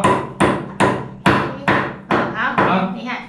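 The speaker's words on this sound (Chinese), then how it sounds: "用过锤子。" A hammer taps steadily while an IKEA LERHAMN table is being assembled, landing about eight firm, close strikes at a regular pace, each one ringing briefly before the next.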